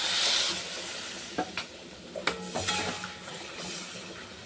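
Spice paste fried in a pan for a fish and potato curry sizzles with a steady hiss while a spoon stirs it, giving a few scraping clinks and knocks partway through.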